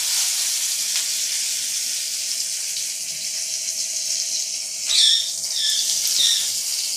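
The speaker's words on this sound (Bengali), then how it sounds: "এবারে করলাগুলো ফ্রাই করে নিচ্ছি।" Stuffed bitter gourds fry in hot oil with a continuous, bright sizzle that swells briefly louder partway through. No voices are heard.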